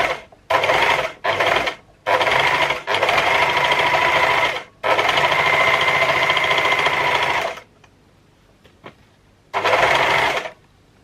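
Overlocker serger sewing a scrap of fabric, loud rapid whirring bursts of several seconds each with short pauses, close up, then a quiet stretch with faint clicks before a final burst.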